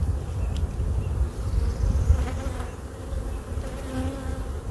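Honeybees drone inside an open hive during a colony inspection. The buzzing is dense and continuous, loud and close, with a few individual bees rising above the swarm hum.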